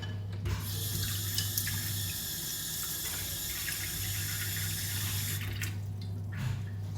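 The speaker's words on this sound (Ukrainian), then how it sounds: "Можемо це яйце під водою охолодити, щоб воно а, охолонуло." Tap water runs steadily from a kitchen faucet over a boiled egg to cool it, a continuous close hiss and splash with a low hum underneath, and no speech.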